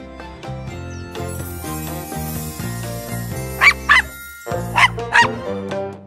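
A few high, yappy cartoon puppy barks from a children's cartoon song, in quick pairs, ring out over a bouncy, plinking music bed, close and fairly loud.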